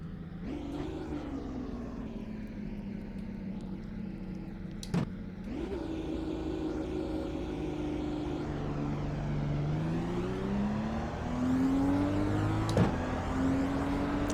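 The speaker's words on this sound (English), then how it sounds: "Turn the engine way down, of course." An IndyCar Dallara IR-18 engine in iRacing at Pocono drones steadily, its pitch rising and falling through upshifts and a couple of sharp blips, with no one talking.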